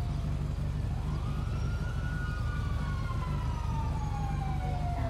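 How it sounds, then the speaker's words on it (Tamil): A video game ambulance siren in GTA 5 wails, sweeping slowly up and down in pitch, moderately distant, over a continuous low engine rumble. "ஆம்புலன்ஸ் சத்தம் கேக்குது."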